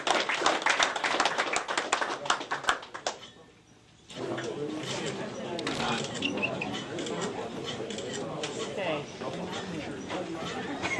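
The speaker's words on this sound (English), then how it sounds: "Let's give him a round of applause." Crowd applause rises and fades, then a sustained murmur of clapping and chatter carries on at moderate loudness.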